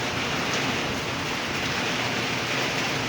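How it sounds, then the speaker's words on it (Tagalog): Heavy rain drumming on an uncovered roof over a store with no ceiling beneath, a dense, steady hiss of drops that holds at an even, fairly loud level throughout, with no voices. "Kaya rinig na rinig sa bubong ang patak."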